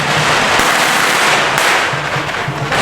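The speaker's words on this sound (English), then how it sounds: "That guy just went up to that lady and let her throw a bunch of firecrackers on his feet" Firecrackers burst in a loud, dense, continuous crackle at the vegetarian festival in Phuket, thrown at a man's feet, with rapid overlapping pops close by and crowd noise beneath.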